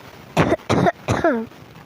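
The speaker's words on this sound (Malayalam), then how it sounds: "ചെറിയ ജലദോഷത്തിൻ്റെ കോളായതുകൊണ്ടാണ് ചുമ" Three sharp coughs in quick succession, close by, the last trailing into a short throaty sound.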